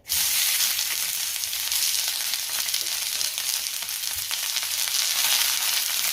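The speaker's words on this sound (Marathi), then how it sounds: "त्याच तव्यामध्ये आता आपल्याला कांदा भाजून घ्यायचा आहे." Onion dry-roasting on a hot griddle gives a steady, loud, close hiss of sizzling that holds unbroken throughout, with no voices.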